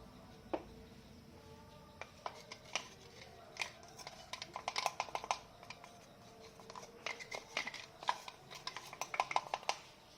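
Roasted semolina and powdered sugar stirred in a pan for suji laddoo, a utensil scraping and tapping against the metal in irregular clinks that grow busier midway, close and fairly quiet with no talk.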